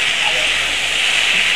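Chopped banana flower and potato are stirred with a spatula in a hot pan, giving a steady, even hiss of sizzling that holds without a break for the whole moment, with no talking.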